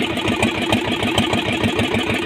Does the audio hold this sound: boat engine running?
yes